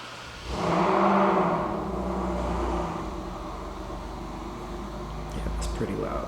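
A turbocharged Nissan 370Z Nismo revs loudly indoors, a deep engine roar swelling in the first seconds and then settling into a sustained rumble, with a brief sharper burst near the end.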